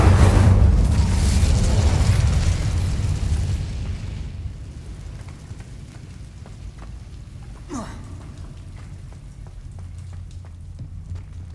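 An Incendio fire spell cast in the video game Hogwarts Legacy makes a loud, close roaring whoosh that fades over about four seconds into a low, quiet ambient rumble, with a faint short crackle later.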